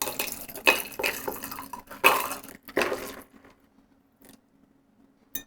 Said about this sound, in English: Gonna open dirty pour it into the glass.